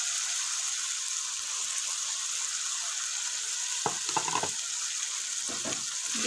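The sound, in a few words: green chillies added to frying chicken white karahi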